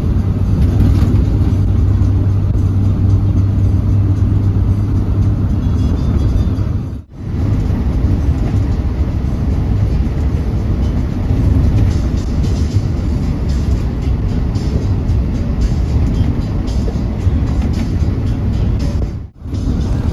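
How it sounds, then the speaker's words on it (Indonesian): Continuous loud road roar from inside a vehicle on a quiet toll road at night, tyres and engine droning steadily, with two brief dips where the noise momentarily cuts out. "Ada juga truk sih paling."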